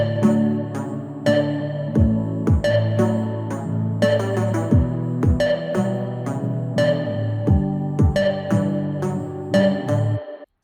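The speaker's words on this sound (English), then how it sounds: "the next element is a tonal snare, which is again a straight sample" Tonal snare sample running through reverb and a saturated snare bus, layered into a full pop mix with steady repeating hits over sustained bass and chords, loud and continuous.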